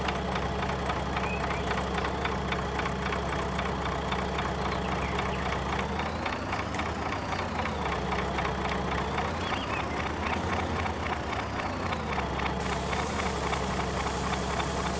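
A tractor engine in Farming Simulator 19 idles steadily with a rhythmic diesel knock, continuous and even throughout, with a slight change in pitch midway.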